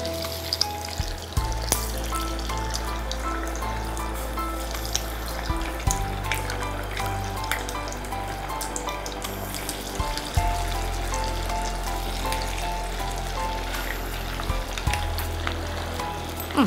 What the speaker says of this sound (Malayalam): ഇനി നമുക്ക് വട ഓരോന്നായിട്ട് ഇടാം.